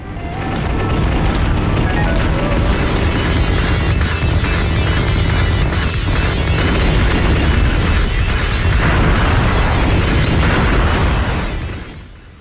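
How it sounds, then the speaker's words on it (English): Dense, continuous barrage of rapid game gunfire and bursting explosions from the shoot-'em-up Shooting Love 20XX, loud and unbroken for most of its length before fading at the end. "all of the buttons can be jammed at once for an unholy amount of gunfire"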